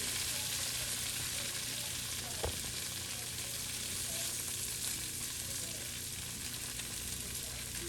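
Tofu sizzling and frying in a hot pan for a stir fry, a dense continuous crackle with one brief clatter partway through, no talking.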